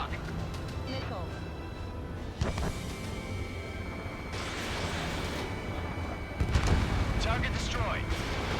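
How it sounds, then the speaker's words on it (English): Missile launches and explosions during aerial combat in Ace Combat 7, with a sharp blast, roaring bursts and sustained jet rumble under intermittent radio chatter. "Missile away."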